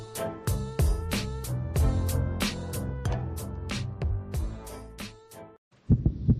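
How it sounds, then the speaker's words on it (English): A young child's racing heartbeat pounds in quick, steady thumps, about a dozen in five seconds, over a sustained tonal backing. It stops briefly, then a couple more close, loud beats follow. "This is the sound of a racing heart"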